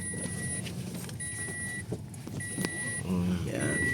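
A Toyota Vios with a repaired automatic transmission fault runs on a test drive, steady cabin engine and road noise with a repeating warning chime and some bumps, people talking over it.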